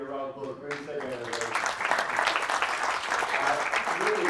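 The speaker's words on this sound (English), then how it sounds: "It'll be a round of applause." A conference audience at an Ethereum London meetup breaks into applause, a dense, steady clatter of clapping that swells after a brief lull and holds loud and close to the end, with some talk underneath at the start.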